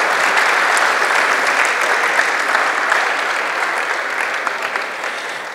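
Sustained applause fills a hall at a Mexican political conversation event on women's challenges, a steady dense clapping from a sizeable audience that holds level for several seconds and tapers slightly at the end, with no talk over it.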